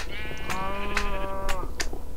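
A Minecraft sheep bleats in the game, a clear, close, wavering baa lasting about a second, followed by a few short clicks.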